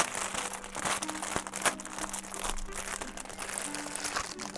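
Plastic wrapping around a Wizarding Trunk shirt crinkles and rustles steadily at close range, with small crunchy bursts scattered through a continuous soft crackle and no talking.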